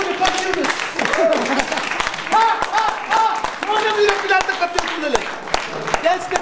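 An audience doing the Fairtrade clap, many hands striking together in sharp, rhythmic bursts under a leader's loud voice calling out over the crowd.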